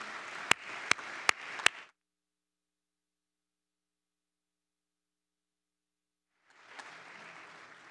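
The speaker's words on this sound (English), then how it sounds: "I just like to have you give them a big round of applause" An audience at a church synod assembly bursts into loud applause for about two seconds, with several sharp claps standing out. Silence follows, then a second wave of clapping begins near the end.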